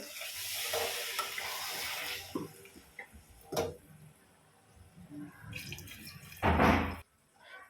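Water hits a pan of sizzling mixed vegetables with a rushing hiss for about two seconds, followed by scattered clanks and scrapes of stirring and a final louder splashing burst near the end.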